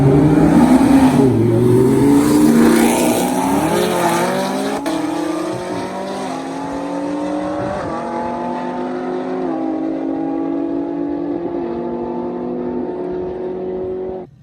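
A Chevrolet Camaro ZL1 on pump gas drag races a twin-turbo Lamborghini, its engine roaring loud and close, climbing in pitch through each gear with distinct shift breaks before easing off at the end.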